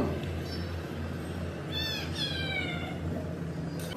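A single short cat meow, rising then falling, sounds near the middle of a quiet room over a low steady hum, with nothing else around it.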